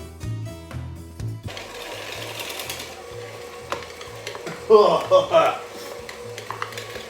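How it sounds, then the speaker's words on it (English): Butter and cocoa powder being creamed for a Halloween cake with an electric mixer, a whirring motor that starts, stops and restarts, with beaters rattling against the bowl and a louder clattering burst midway. "We're creaming the butter and the cocoa powder. It's just going very slow."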